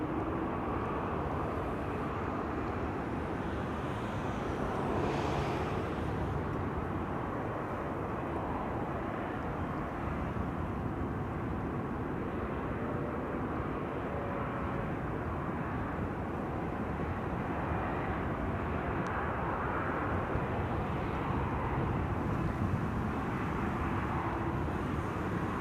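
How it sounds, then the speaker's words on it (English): Steady, fairly quiet rumble of an IndiGo Boeing 787-9 Dreamliner taxiing at Amsterdam Schiphol, a continuous low engine drone with no distinct peaks, heard from a distance outdoors. "Indigo will be going back to Mumbai. It needs to go to runway 24, so it's going to make a turn for us"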